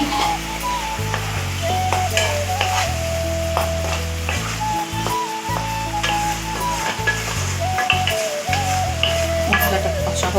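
Spatula scraping and stirring through masala frying in a pan for a soya chunk and potato curry, with a constant hiss of sizzling oil and rhythmic clinks against the metal.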